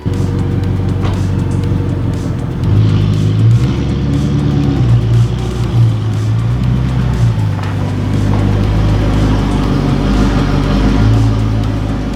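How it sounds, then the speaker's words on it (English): A car engine hums steadily up close as the car is driven slowly into a garage, its idle and gentle revs rising and falling in loud, continuous rumbling without any voices. "The last thing that needs to be done now then is to just bring the car in."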